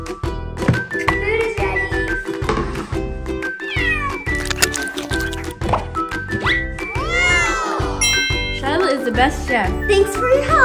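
Cartoon cats meow over and over in quick succession, loud and close, with lively background music and a voice mixed in.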